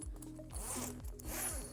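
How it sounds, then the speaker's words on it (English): A zipper on a tent's front wall is pulled down in several quick ratcheting strokes, close and clear, with short pauses between pulls and no talking. "and zip it down"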